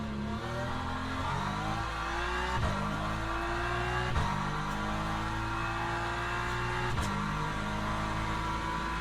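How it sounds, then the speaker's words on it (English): BMW race car engine in the Le Mans Ultimate racing game, a loud continuous drone rising in pitch through the gears with sharp drops at each of several upshifts. "Yeah, the BMW doesn't sound as good"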